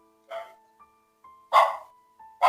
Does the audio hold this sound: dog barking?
yes